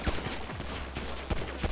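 Rapid bursts of video-game gunfire in GTA V, a fusillade of close, sharp shots clustered at the start and again near the end, heard alone with no talk.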